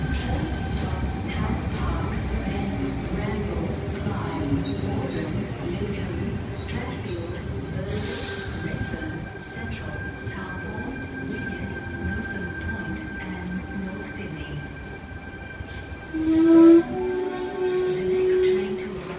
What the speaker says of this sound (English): Here we have T59 arriving into platform number 3